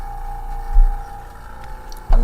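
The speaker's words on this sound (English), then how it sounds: "Let me move the mic a little bit away from the compressor." An air compressor powering an airbrush for painting hums steadily close by, with a constant motor tone and low pulsing thumps over a couple of seconds.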